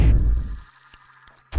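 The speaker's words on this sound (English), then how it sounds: "It's nice to have a little sizzle when it hits the water." A sizzling, hissing burst as an ice bomb hits water in the video game Songbringer, loud at first and fading over about half a second, followed by faint scattered ticks and a short sharp sound at the end.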